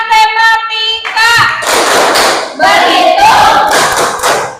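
A class of students performs the "tepuk matematika" clapping chant, with loud group voices and rhythmic hand claps together in a classroom.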